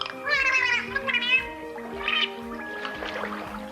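A dolphin in a human-speech experiment produces a run of high, warbling, whistled bursts that mimic speech rhythm, pausing and starting again over a few seconds, with a faint watery background.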